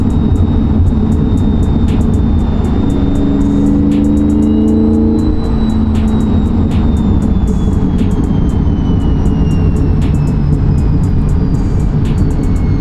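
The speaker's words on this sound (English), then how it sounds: "that's as far as the whine goes on the supercharger" Supercharged C8 Corvette on a track in track mode, heard from the cabin: a steady loud engine drone under a high, rising and falling supercharger whine, with no talking.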